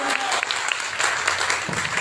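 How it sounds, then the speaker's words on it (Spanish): An audience at a literary essay panel applauds Lucía Noriega with steady, dense clapping that fills the whole stretch, moderately loud and close, with no voices over it. "Fuerte el aplauso para Lucía Noriega"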